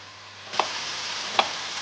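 A steak fries in a hot pan, giving a steady close hiss that starts abruptly and continues, with two faint ticks of fat spitting.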